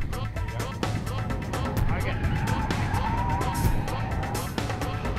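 A Nissan 350Z engine revs while tires squeal and scrub as it slides through a turn, with bumpy, clattering road noise.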